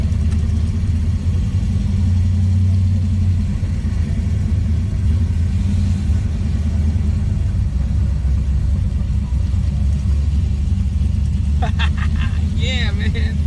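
A third-generation Camaro with an LS3 V8 and a 600-lift cam rumbles steadily and loudly at low pitch during a first test drive, with engine noise throughout and a few short higher sounds near the end.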